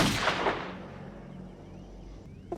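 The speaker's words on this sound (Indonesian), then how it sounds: "Pistol Pete up there shot Becky." A single sharp gunshot from a film scene rings out at the start and decays into a long rumbling echo, followed by a faint brief knock near the end, with no talk.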